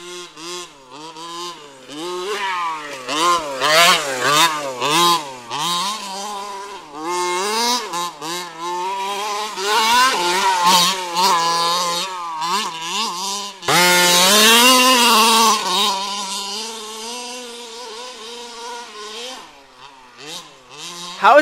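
A gas-powered HPI Baja 5B RC car at a local RC track, its small two-stroke engine buzzing loud and close, repeatedly revving up and dropping off in sharp surging bursts.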